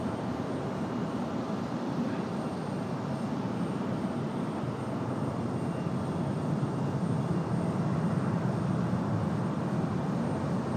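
A Breeze Airways jet airliner roars steadily at Raleigh-Durham airport, a broad continuous engine rumble holding loud and even throughout, with no voices.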